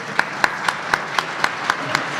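Evenly spaced hand claps from an audience at a speedrunning marathon event, about four per second, ring out in a steady rhythm over a faint background hiss.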